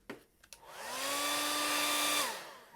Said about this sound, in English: So let me hit that with the blow dryer.